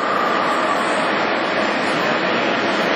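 An American Hole Wizard radial arm drill running at 600 RPM gives a dense, even, broadband machine roar with a steady whirr, continuous and fairly loud, no voices over it.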